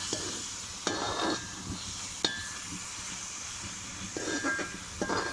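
Onions with turmeric powder are stirred in a sizzling pan, with a few scraping strokes of a spoon and soft clinks over a steady low frying hiss.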